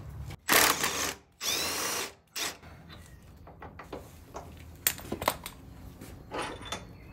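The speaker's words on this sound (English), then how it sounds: "This one is pretty tight, so I will use power tool" An impact driver or similar power tool loosens a tight bolt on the shock of a Harley-Davidson Low Rider ST, in two loud, close bursts of roughly a second each, followed by quieter clicks and handling noises of tools.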